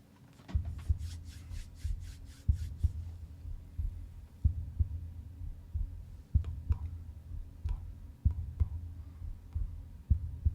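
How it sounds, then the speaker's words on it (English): A steady, deep heartbeat thumps in a regular rhythm under a low hum, with a burst of rapid rattling clicks near the start, in the opening of a song. "Sounds like a heartbeat."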